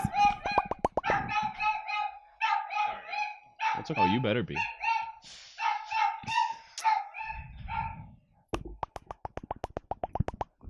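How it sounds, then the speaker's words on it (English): Several small dogs bark in rapid, high-pitched yips nearby, in repeated bursts throughout, with a person talking over them. "Got little dogs barking in the background."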